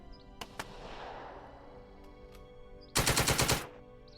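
Gunfire from the World War II strategy game Steel Division: Second Front: a couple of isolated sharp shots early on over a low rumble, then a rapid, loud machine-gun burst of about seven rounds near the end.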